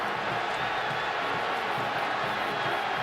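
Football stadium crowd at an Ohio State versus California game reacting to a replay, a broad sustained roar of many voices, steady and fairly loud throughout.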